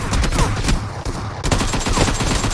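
Rapid automatic gunfire from PUBG Mobile in a deathmatch, loud close bursts fired in quick succession with barely a pause, nearly continuous for the whole stretch.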